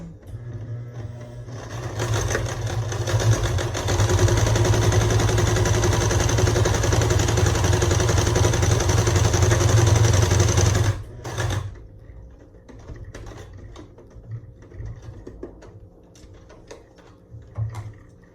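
A sewing machine runs steadily for about nine seconds as it stitches straight across a six-inch seam on a fabric face mask. The sustained mechanical whir is close and fairly loud, then stops, leaving faint handling noises.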